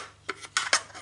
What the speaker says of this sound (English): So to cut this you just need a Stanley knife.